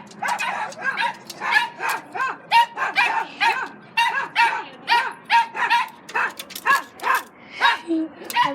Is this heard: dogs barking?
yes